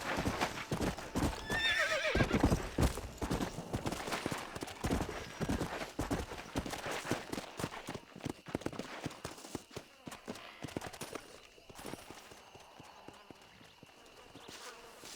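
A horse gallops in the video game Red Dead Redemption, quick rhythmic hoofbeats up close with a neigh early on, the pounding fading to lighter steps amid buzzing insects.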